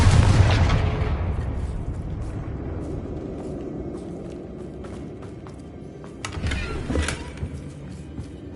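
A Confringo fire-blast spell from Hogwarts Legacy bursts with a loud deep boom at the start, then a long rumbling decay with crackling, and a second smaller burst follows near the end.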